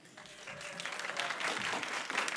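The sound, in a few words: audience applause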